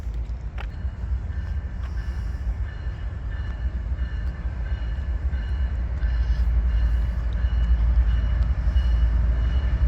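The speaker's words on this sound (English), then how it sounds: "we got another northbound train set up here, getting ready to hit the diamond" Union Pacific freight train rolling northbound over a railroad diamond crossing, a steady loud rumble of wheels and cars with faint clanks, building slightly louder toward the end, no voices.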